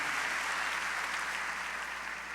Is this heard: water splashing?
no